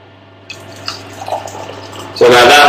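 Hot water poured from a kettle into a cup of Nescafe instant coffee, a rising splashing pour that starts loud and close at the end after a quieter stretch of faint trickling and clatter.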